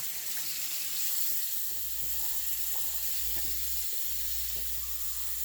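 Warm salt water runs from a tap into a container, a steady broadband hiss of flowing water filling it to the top, close and continuous with a faint low hum beneath.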